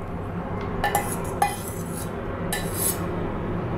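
Cooked pumpkin being moved into a mixer jar, with a few light metallic clinks and scrapes of a utensil against the jar over a steady low background hum, no voices.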